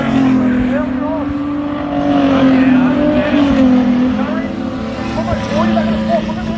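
Race cars roaring past on a circuit, loud sustained engine drone rising and falling as cars pass nearby, with a race commentator talking over it throughout.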